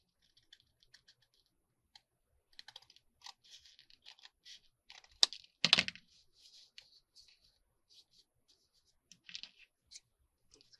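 Paper trimmer or scissors slicing card stock for greeting card folios, a run of quiet crisp snips and clicks with one louder cut in the middle, close and alone without talk.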